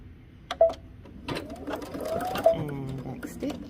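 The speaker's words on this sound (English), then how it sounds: "can take it to the machine and stitch a 5/8 of an inch seam allowance along the edge" A sewing machine stitches a seam along a fabric edge with a steady mechanical whir in short bursts, close and fairly loud.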